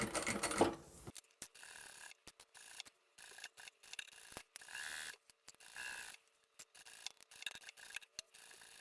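A sewing machine stitches in short rhythmic bursts with pauses between runs, reinforcing the handle of a curved-bottom zippered wristlet pouch; a quiet, close mechanical whir alone.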